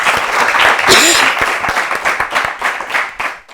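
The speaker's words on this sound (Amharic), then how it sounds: "አጨብጭቡላቸው እስቲ።" An audience applauds contestants on a children's quiz-show stage, a dense, loud burst of clapping that swells and then tapers off over a few seconds, with some voices and cheering mixed in.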